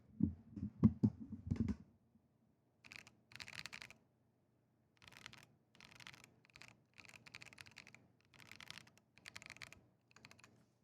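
Bursts of mechanical keyboard typing on a Keychron Q3 Pro with Banana low tactile switches, soft and thocky, come in short clusters separated by brief pauses, close to the listener.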